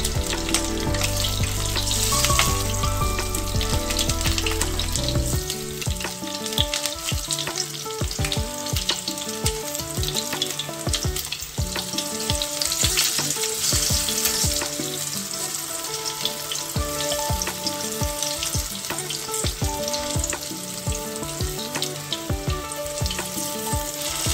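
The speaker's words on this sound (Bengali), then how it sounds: "মিডিয়াম হিটে এটাকে ভাজতে হবে। মাঝারি হিট দিয়ে রাখবেন, নতুবা কোপ্তাগুলোর ভেতরটা ভালো করে ভাজা হবে না।" Raw green banana kofta balls fry steadily in oil over medium heat for a Bengali curry, giving a continuous dense sizzle with small bubbling crackles throughout, while tonal background music plays underneath.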